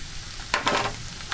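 Flour sprinkled into hot sausage fat for biscuit gravy sizzles and hisses steadily, with two brief louder bursts of stirring or scraping in the short span, close by and without any voices.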